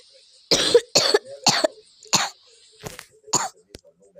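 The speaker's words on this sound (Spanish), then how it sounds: "Esperen que tengo que toser." Six sharp coughs in a broken series, close and fairly loud, with short pauses between them and no speech.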